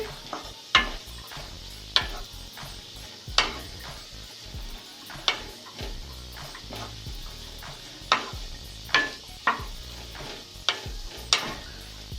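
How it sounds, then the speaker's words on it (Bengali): A spoon stirs vegetables in a pan for a vegetable soup, giving repeated scraping clicks at a steady, unhurried rhythm, each stroke sharp and close, over a faint background hiss with no talking. "যতক্ষণ কাঁচা গন্ধটা চলে যাচ্ছে ততক্ষণ একটু নাড়তে হবে"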